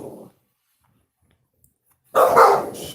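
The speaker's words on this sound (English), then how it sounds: "Shut up, dogs." Dogs bark loudly and close by: a short burst at the start, a long quiet gap, then another sharp volley of barking.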